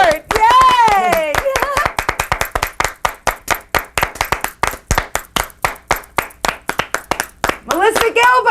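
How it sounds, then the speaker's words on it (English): Studio audience clapping in steady rhythmic unison to welcome actress Melissa Gilbert onto a talk show set, loud and close, with cheering voices at the start and again at the end. "So let's just all clap."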